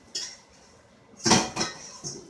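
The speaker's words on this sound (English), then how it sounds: "So I throw everything in this pot here and stir it" Metal clinks and scrapes of a utensil stirring vegetable chow mein in a pot, a few short bright knocks and clatters, close and with no voices.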